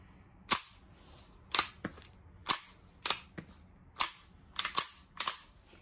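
A Ruger 10/22 rifle fired with its original magazine, about nine sharp reports at uneven intervals of roughly half a second to a second, each cracking loudly and decaying quickly, with no talk.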